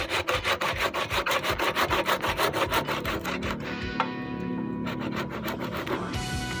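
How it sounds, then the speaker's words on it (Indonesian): Roots of a duranta bonsai being cut back to fit a pot, heard as a quick run of rhythmic, close rasping saw-like strokes on wood that then give way to softer scraping and handling noise, with no voices. "ini harus ada yang dikurangi, akar harus ada yang dipotong kembali"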